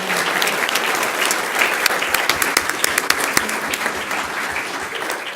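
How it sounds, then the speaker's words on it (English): Sustained audience applause fills a school board meeting hall, steady dense clapping from many hands at close range, with no voices over it. "let's give them a round of applause"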